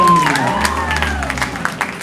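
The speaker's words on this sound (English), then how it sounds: "how about a huge round of applause for our band?" Applause and cheering from a high school audience for a band at a comedy hypnosis show, a loud burst of clapping and crowd noise mixed with lingering band tones and some voices.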